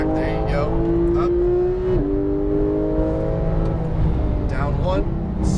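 A Lamborghini Huracan Performante on the EXR Las Vegas track: its engine drones and climbs steadily under throttle, with a brief dip and a renewed pull, loud and close under an instructor's continuous talk.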